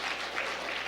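Audience applause at a lecture event in Jangseong, steady dense clapping throughout at moderate distance, no voices over it.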